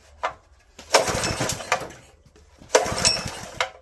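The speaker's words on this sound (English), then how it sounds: "Now, that's just running on residual" A Honda GX160 small engine, a junkyard find, sputters briefly on leftover fuel in two rough bursts with a pause between, fairly close, and no voices.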